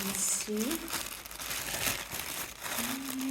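Plastic packets of plant seeds or bulbs from a garden shop parcel crinkle and rustle in bursts close by, with a voice talking over the handling noise.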